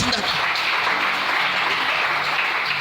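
A church congregation applauds to acclaim the Lord, a steady, dense wash of clapping that fills the whole moment without a break.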